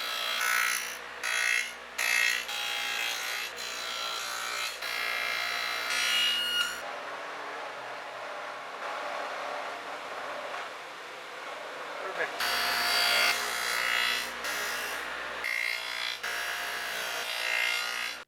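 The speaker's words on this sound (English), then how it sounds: "So I'm set up to cut all the rabbets out of my cleat" A power tool cuts rabbets into a wooden cleat in two sustained, bright, whining passes with a quieter gap between them. Some talk is heard.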